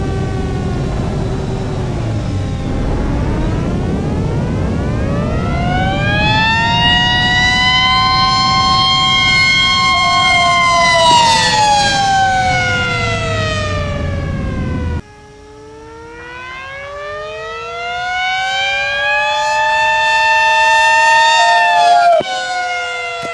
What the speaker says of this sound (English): I am flying my T-28 with 2 dive sirens